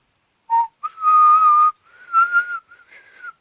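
Someone unable to whistle properly tries, producing a few short, wavering notes broken up by gaps, with breathy airy edges around the tones.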